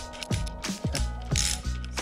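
Ratchet wrench tightening the front bolts on new Pro Taper motorcycle handlebars fitted to a Yamaha YZ250, sounding in several close, loud bursts of clicks with short pauses between strokes, no talking.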